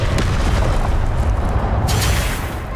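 Confringo blasting spell from the Hogwarts Legacy video game, a loud continuous booming explosion with crackling spread across the whole moment and no voices.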